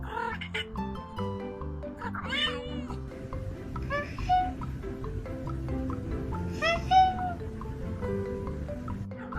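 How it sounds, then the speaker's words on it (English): A cat meows repeatedly in drawn-out, wavering cries over a low background hum, some calls rising into strained, almost yowling tones. "ranking the funniest cat sounds."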